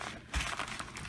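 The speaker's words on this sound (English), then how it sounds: "But I'm getting paper towel." Paper towel crinkles and crushes in a short, close burst as it is pressed onto raw chicken wings to dry them in a kitchen, with no talk.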